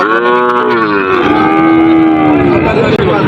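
A farm cow lets out one long, loud, close-up moo that sustains for a few seconds before trailing off.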